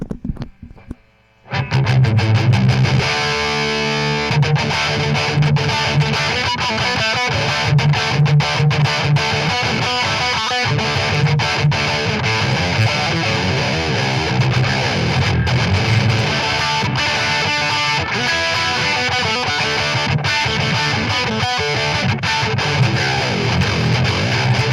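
Heavily distorted heavy metal electric guitar plays fast riffs that jump quickly between high and low notes, loud and continuous after a brief quiet start.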